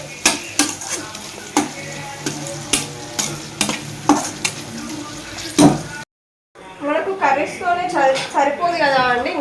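A utensil scrapes and stirs food frying in a pan with turmeric, giving repeated loud clinks over a steady sizzle; after a brief silent break, a person talks over the cooking noise.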